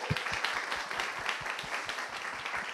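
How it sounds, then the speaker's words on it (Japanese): A church congregation in Shinjuku clapping during a Sunday service, a short, moderately dense patter of hands in a room with a few louder claps standing out and no speech over it. "じゃあ拍手を持ってですね"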